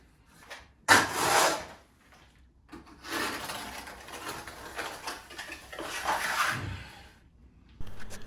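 A trowel works a second coat of 4-to-1 sharp sand and cement plaster onto a fireplace wall, producing close, gritty scraping strokes in irregular bursts separated by short pauses.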